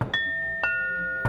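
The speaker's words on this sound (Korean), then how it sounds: "수습할 겨를도 없이 울려대는 초인종" Doorbell in a one-room apartment, ringing insistently: three bright chimes with sustained ringing tones, evenly spaced about half a second apart, close and clear with no voices.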